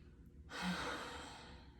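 A single deep breath taken close by: a soft airy inhale swells suddenly and then slowly fades into a long, gentle exhale, alone in a quiet room.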